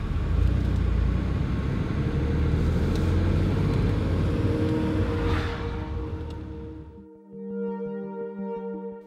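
A Porsche 911 drives steadily on a mountain road on the way to the Solitude racetrack, a loud continuous engine and tyre rumble that drops away near the end, giving way to a fainter humming tone.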